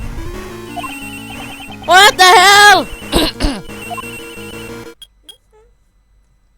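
Cell phone ringing in the video game Ace Attorney, a loud, warbling electronic ringtone in repeated bursts over game music, with a voice speaking briefly before it fades to quiet.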